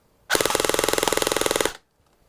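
An airsoft AEG fires a full-auto burst through a 21 mm oval-port cylinder, a loud, fast, even rattle of shots at about 1,200 rounds per minute lasting roughly a second and a half, then stopping into silence.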